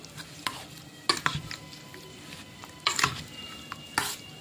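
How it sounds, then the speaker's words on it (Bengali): A spoon works through a milk mixture with green chillies in a bowl, giving repeated scraping clinks and stirring scuffs in short bursts, close and fairly clear. "আমি হাত দিয়ে মাখবো না, চামচ দিয়ে মাখবো।"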